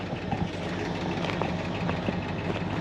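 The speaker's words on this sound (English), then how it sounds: "For old stock single exhaust, it does sound pretty good." A 1968 Ford Galaxie XL with an old stock single exhaust runs steadily, a low, even engine rumble heard alone at moderate level without any change in pace.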